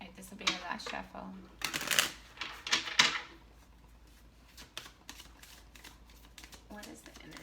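Tarot cards are shuffled in quick riffling bursts, with several loud flutters of the deck close to the microphone, then quieter taps and handling sounds.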